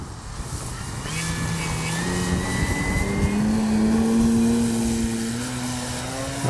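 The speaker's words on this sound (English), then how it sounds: "let's try it up and see if we can't get some sort of speed out of this plane" A Hangar 9 Valiant 20cc gas RC airplane drones overhead at speed, its engine tone rising steadily and sweeping in pitch as it passes, loud over wind noise with no talk.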